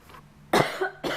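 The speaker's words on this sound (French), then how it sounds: "J'arrête pas de tousser." Two or three harsh, close coughs in quick succession, loud bursts separated by short pauses.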